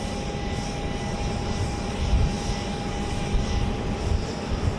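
Flight 1953 at Dallas Love Field sounds as a steady roar of aircraft engines with a thin whine on top. It swells slightly midway and stays fairly loud, with no voices.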